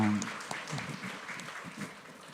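A church congregation claps during an infant baptism and confirmation service, a soft, even patter of many hands that continues steadily without a break.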